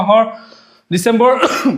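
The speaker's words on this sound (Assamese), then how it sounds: "ক্ষমা কৰিব কাহ হৈ আছে অলপমান ডিস্টাৰ্ব মানে দি আছে" A man clears his throat and coughs during an Assamese current-affairs lesson, a short harsh burst after a moment of quiet, set between stretches of his talk.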